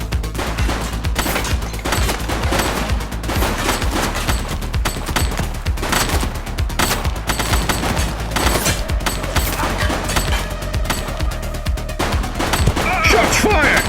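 Dense, continuous bursts of gunfire from a police shootout in a video game, loud and sustained with rapid overlapping shots throughout.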